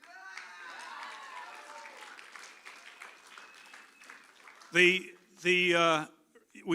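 Applause bursts out from an audience in loud clustered waves after a stretch of speech at a political event, with a speaking voice carrying on beneath.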